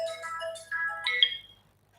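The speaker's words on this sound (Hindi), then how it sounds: "पहले बताओ किसका फोन आ रहा है" Phone ringtone rings out clearly as a short melodic electronic tune with rising tones, loud and alone for about a second and a half before fading to silence.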